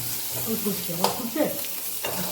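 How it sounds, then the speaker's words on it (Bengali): Pieces of boal fish frying in a pan, with busy crackling, sizzling and popping of hot oil close up, steady and lively throughout. "দেখো কি ফাটছে বোয়াল মাছগুলো"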